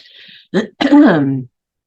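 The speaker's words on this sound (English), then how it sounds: "I keep clearing my throat." A single throat clearing, close and fairly loud, with a short rasp followed by a longer voiced grumble, then silence.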